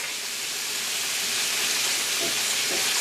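Chicken liver sizzling in a hot pan, a steady broad hiss that holds even and fairly loud throughout, with no voices over it.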